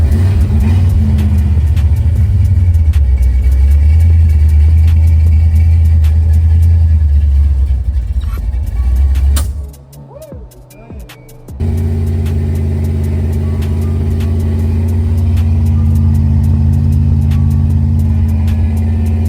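The engine of a 1972 Chevy Impala, recently fixed after stalling, runs loud and close with a steady low rumble. It dips briefly to near quiet, then settles back into an even idle.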